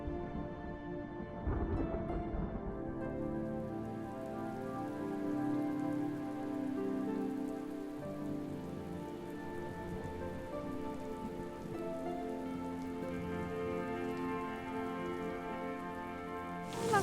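Rain falls steadily onto surfaces, a soft, continuous patter with drips, heard alone and fairly quiet throughout.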